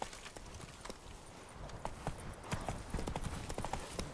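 Hooves of Roach, the horse in The Witcher 3 video game, clip-clopping at a steady walking rhythm, fairly quiet and close, with irregular sharp hoof strikes and faint background ambience.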